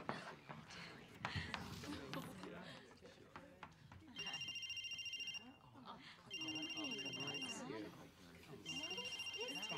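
A telephone rings in three bursts of fast electronic trilling, loud and close, between stretches of people talking in a sitcom household.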